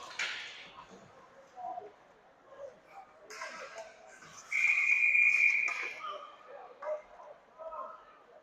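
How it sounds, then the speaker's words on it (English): Referee's whistle at a 16U AA youth ice hockey game, one shrill sustained blast of about a second and a half over arena crowd noise, with a commentator talking around it. "So we have a whistle."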